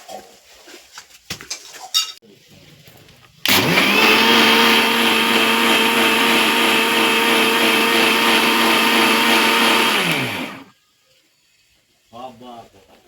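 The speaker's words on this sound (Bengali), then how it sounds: "এবার মিক্সচারে আমি এটাকে ব্লেন্ডার করে নেব।" An electric kitchen blender whirs loudly and steadily for about seven seconds while mixing cold coffee with sugar, starting abruptly after some light clatter and cutting off to quiet, with a few small kitchen noises afterward.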